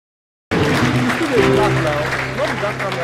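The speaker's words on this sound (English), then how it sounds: "Let's give ourselves a round of applause." Audience applause fills the hall at a university matriculation ceremony for UNIBEN students, starting abruptly and holding loud and steady while voices speak over it.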